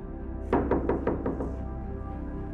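A visitor raps on a house door: five quick, evenly spaced knocks, close and solid, followed by quiet room tone.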